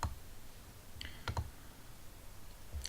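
A few soft computer mouse clicks while working in software, single taps and a quick double click spaced over a quiet room, faint and close.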